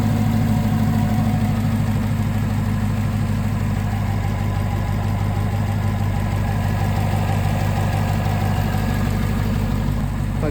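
A 2021 Camaro SS 1LE engine idles steadily with a low, rumbling hum and faint knocking while emitting heavy smoke, continuous and close throughout with no voices.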